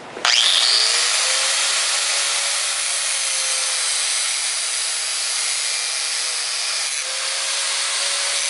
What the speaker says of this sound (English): the first step we do when we do one of these is grind off that outside lip